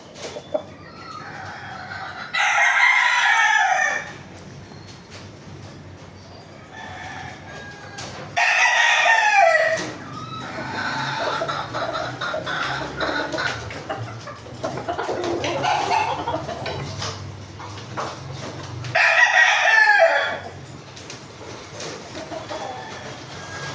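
A Golden Boy Sweater gamefowl rooster sick with fowl cholera crows three times, each crow long and loud, with clucking and other bird calls in between, while people talk in the background.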